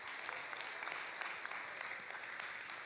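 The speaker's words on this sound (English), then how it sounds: "Please give another round of applause." Steady applause from an audience at an African Day celebration in a venue called La Cité, following a vocal performance; dense, continuous clapping at moderate distance with no voices over it.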